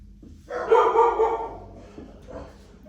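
Dogs bark outdoors beside a garden where pepper seeds are being planted, giving one loud cluster of rapid barks at mid distance that tails off into a quieter yip.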